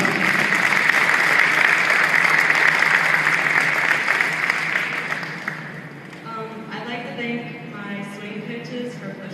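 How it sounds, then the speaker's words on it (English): An audience at a high school signing day claps together in sustained, dense applause for about six seconds before it thins out. Speech follows in a reverberant hall. "if you could all please join me in a round of applause for Liz Headline"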